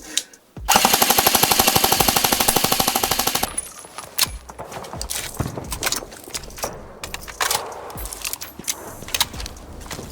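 A Golden Eagle MCR airsoft LMG fires one loud rapid burst of about three seconds, a dense close mechanical rattle of shots, followed by handling clicks and clatter from the gun.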